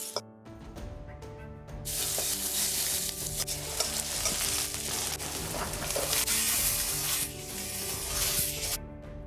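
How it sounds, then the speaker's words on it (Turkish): Carrots and onions sautéing in a pan, a loud, dense sizzle that starts abruptly and holds steady, with faint stirring scrapes and a low background hum. "Sebzelerimizin rengini alana, hafif hafif yumuşayana havuçlar ve soğanlar kadar kavuracağız."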